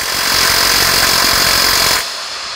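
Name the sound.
impact wrench removing rusty fastener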